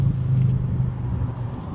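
Louder, breezier road roar with a low engine drone from a pickup truck driving with a window open to passing traffic, including lorries and motorbikes.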